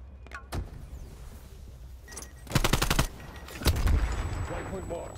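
A gunfight in Call of Duty Black Ops Cold War: a short burst of rapid automatic gunfire, a pause, then another close, loud burst, with game ambience throughout.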